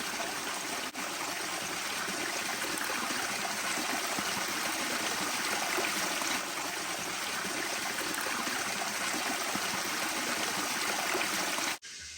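Water trickles steadily down bamboo at an off-grid homestead in Portland, Jamaica, a continuous close splashing flow with no talk over it, ending abruptly.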